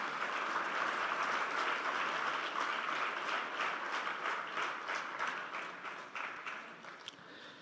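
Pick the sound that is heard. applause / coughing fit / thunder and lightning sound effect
applause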